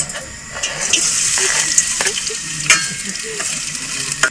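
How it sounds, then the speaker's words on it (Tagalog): Liver frying and being stirred in a pan for Filipino menudo at a campsite, a steady sizzle with scraping stirs and small clatters throughout. "Ipiprito ko pala muna ang atay para maalis ang lansa"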